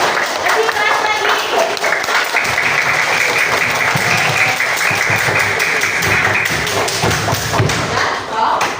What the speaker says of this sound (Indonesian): beri tepuk tangan buat kita semua yuk